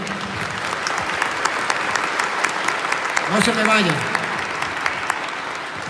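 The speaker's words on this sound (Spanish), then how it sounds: "un fuerte aplauso pues para el hermano" Strong applause from a church audience, a dense steady wash of clapping through the clip, with someone speaking briefly over it midway.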